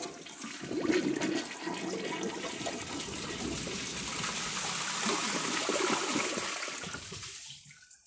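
A Kohler Ingenium toilet flushes into a dry or nearly dry bowl, a loud rushing swirl that holds steady for several seconds before draining off into a gurgle and falling quiet near the end.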